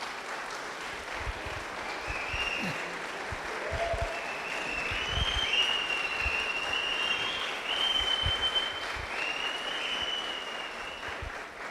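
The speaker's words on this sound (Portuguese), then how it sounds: "Vamos dar uma salva de palmas para eles" Steady applause from the guests for a newly married couple at a wedding ceremony, a dense, even wash of clapping that carries on unbroken for the whole stretch at moderate loudness.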